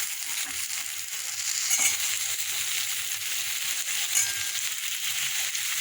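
Pumpkin and green chillies fry with onion in a pan, a steady close hiss and sizzle with occasional stirring scrapes and clinks against the pan.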